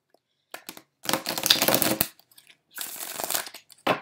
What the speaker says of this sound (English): I'm just going to finish shuffling here